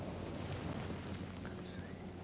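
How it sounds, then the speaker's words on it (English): Strong wind gusting outdoors during a bow hunt in the woods, a steady low rushing roar buffeting the microphone, faint and continuous with no talk. "it's super windy right now"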